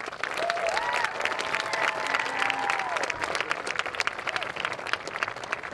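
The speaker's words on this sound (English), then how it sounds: "students, would you please applaud and appreciate your family." A large outdoor crowd at a San Ramon Valley High School graduation ceremony claps steadily, a sustained dense applause with a few faint whoops or voices mixed in.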